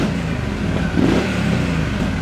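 A motorcycle engine revs near a covered bridge on Covered Bridge Road in Smyrna, a loud, continuous mid-pitched roar that swells briefly in the middle and stays close throughout.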